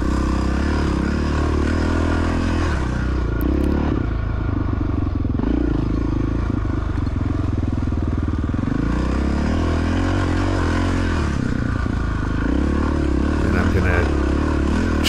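Honda dirt bike motorcycles, including a 1993 Honda XR600R, race on an ice track at the Glacier Run, their engines droning and revving loudly and continuously up close with clattering and scraping, as a rider talks over the noise.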